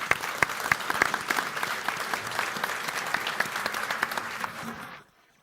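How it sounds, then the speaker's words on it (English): Applause for panel participants at a business conference rings out as a steady patter of many hands clapping for about five seconds, then stops abruptly into silence. "a round of applause for the participants"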